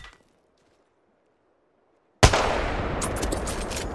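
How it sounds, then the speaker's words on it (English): A single Kraber sniper rifle warning shot in Apex Legends cracks loudly after near silence, trailing into a long decaying echo, with faint rattling sounds following. "Just a little warning shot, let them know we got a Kraber and not to peek us."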